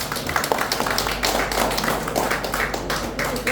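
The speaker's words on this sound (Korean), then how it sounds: "박수 한번 보내십시다." An audience applauds steadily at an endorsement rally for a presidential candidate, with dense, continuous clapping that holds at a fairly even level throughout.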